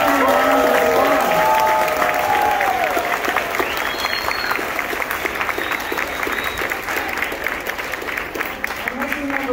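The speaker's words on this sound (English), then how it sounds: "Let's give them a round of applause." An audience at a school spring concert applauds a musical ensemble, with sustained clapping from a crowd throughout and a few voices and cheers rising near the start and end.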